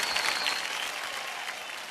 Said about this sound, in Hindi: तालियों के साथ आपका स्वागत।